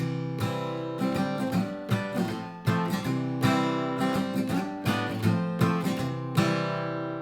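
Acoustic guitar strums through the bridge section of a song, a rhythmic pattern of bass notes and down-up chord strokes starting on C, close and clear with no talking.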